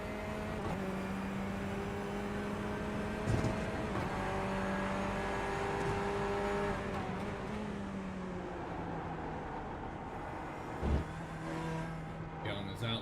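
Racing video game engine note of a race car lapping Sebring International, a steady high-revving drone with shifting harmonics that dips briefly around gear changes, heard under commentary.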